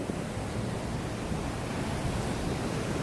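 Gentle ocean waves wash steadily onto a beach in Phuket, a continuous broadband surf roar with light wind, no distinct breaks and no voices.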